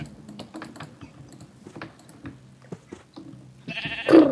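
A goat in the video game Minecraft gives a short bleat near the end, heard among a steady run of close, rapid computer keyboard clicks.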